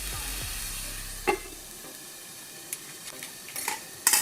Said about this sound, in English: Just preparing guinea fowl stew.